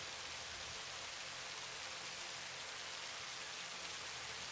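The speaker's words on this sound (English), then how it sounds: "gee, that rain's nice, isn't it?" Rain in the video game Satisfactory, a soft, steady hiss of falling drops with no breaks, faint and even throughout.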